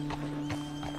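A horse's hooves clop a few times with a short snort or whinny in Red Dead Redemption 2, over a steady low electronic hum.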